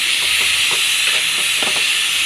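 Curry leaves and coriander greens sautéing in a pan with salt, giving a loud, constant steamy hiss with faint scraping stirs underneath, close and continuous, with no talking.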